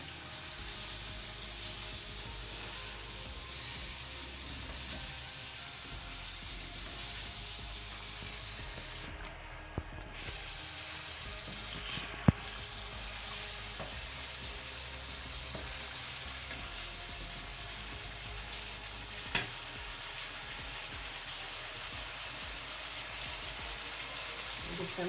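White karahi gravy fries steadily in a pan, a constant soft sizzle running the whole time, with a few faint clicks and scrapes of utensils; no one talks.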